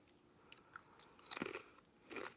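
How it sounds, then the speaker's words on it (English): Biting into a crunchy Turkish wheat cracker snack, with a few crisp crunches close up, the loudest burst midway and another near the end, no talking. "So they are kind of a cracker texture, not a potato chip."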